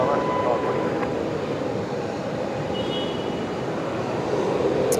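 Airliner taking off at night from Brisbane Airport's runway 19 left, a steady, broad engine roar heard from a distance, with a voice speaking over it.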